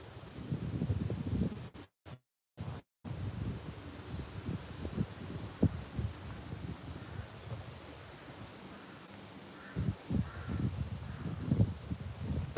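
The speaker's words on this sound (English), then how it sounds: "Birds are going mental." Crows caw loudly and repeatedly outdoors during a morning walk, with other birds calling amid rustling; the calls come in dense bursts throughout, briefly cut by short silent gaps.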